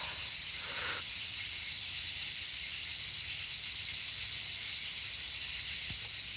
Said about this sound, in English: Can y'all hear those sounds of the frogs and the insects?